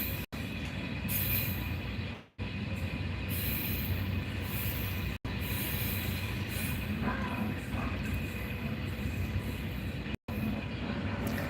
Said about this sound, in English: we're live streaming at the Arctic train. We are really here. We are really on this train.